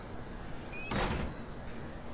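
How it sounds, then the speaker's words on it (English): A door shutting in the horror video game Outlast: a single muffled thud with a brief sliding swish, heard over a steady, low ambient game hum. "That was the door shutting."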